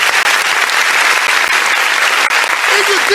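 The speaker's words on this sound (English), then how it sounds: "A round of applause, ladies and gentlemen." A packed audience bursts into loud, sustained applause at a public talk on education in Nigeria given by a speaker, the dense clapping holding steady throughout with a faint voice briefly underneath.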